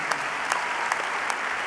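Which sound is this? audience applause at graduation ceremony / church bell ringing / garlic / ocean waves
audience applause at graduation ceremony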